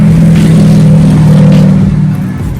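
A rental truck's engine runs loud and close, a steady low rumble with a slight rise in revs before easing off toward the end.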